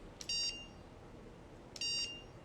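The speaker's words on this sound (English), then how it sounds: "I also wanted to show you the beep." A dog-training e-collar remote gives two short electronic tone beeps about a second and a half apart, clear and close over a low background hum.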